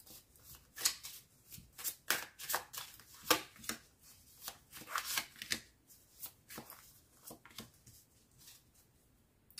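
Tarot cards shuffled by hand in a quiet room, a steady run of crisp riffling bursts and soft flicks with brief pauses between, close and fairly quiet, no voices.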